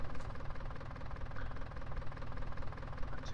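Old tractor in Farming Simulator 19 idling with a steady, slightly knocking diesel rumble and vibration, continuous and close, with no talking.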